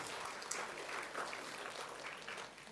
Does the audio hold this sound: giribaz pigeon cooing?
no